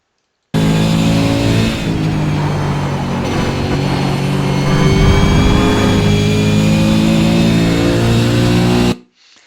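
A race car with a mid-pitched engine pulls hard out of a corner on a road circuit, engine note loud and close, revving steadily with rising harmonics for about eight seconds before cutting off abruptly.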